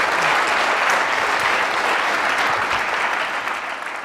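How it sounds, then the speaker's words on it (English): An audience at an evening talk gives its guests a big round of applause, a thick, continuous roar of clapping hands that stays loud and tapers off slightly near the finish. "let's have a big round of applause and thank you for our guests tonight"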